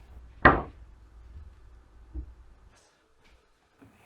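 Wooden cabinet doors being fitted into large workbench modules, one sharp knock followed by a softer tap and faint scrapes, close by with no talking.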